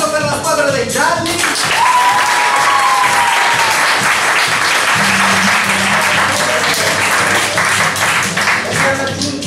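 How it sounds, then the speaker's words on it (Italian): A crowd claps for the yellow team at an improvised theatre match, steady full applause filling the room, with a voice briefly heard at the start and a low hum beneath. "Il nostro applauso per la squadra dei gialli."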